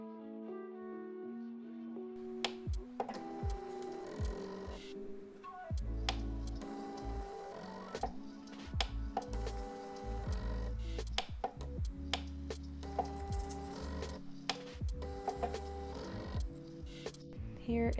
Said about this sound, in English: now we're coming in and scanning a photo from the same strip of film